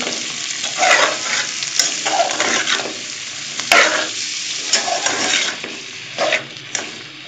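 Sweet pumpkin pieces fry with onions in a pan, giving a steady sizzle broken by repeated scraping stir strokes and a few sharp clinks against the pan, close and fairly loud with no talk.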